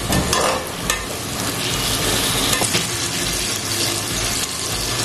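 Small tomatoes and whole spices frying hard in a pan over high flame: a loud, continuous sizzle and crackle, close up, with scraping stirs and brief splashy bursts, no talking.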